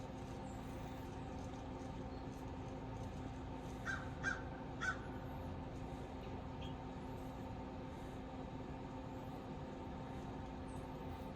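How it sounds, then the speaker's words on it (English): Crows give a couple of faint, distant caws outdoors on a fall afternoon, over a steady low rumble of far-off traffic. "Birds have been very active for me around here."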